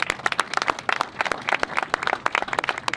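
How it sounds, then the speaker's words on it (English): A small outdoor crowd at a morning groundbreaking ceremony claps together in a brisk, uneven patter that holds steady for a few seconds, close by and moderately loud. "How about a round of applause for this gorgeous morning, huh?"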